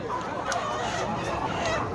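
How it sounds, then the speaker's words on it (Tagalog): Live chickens cluck and squawk in a busy poultry market in Saudi Arabia, a dense, continuous chorus of birds with background chatter. "Oh, gaganda ng mga manok na to."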